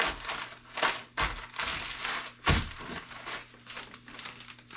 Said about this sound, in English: So then you just flatten it out. Fold it once. Fold it twice.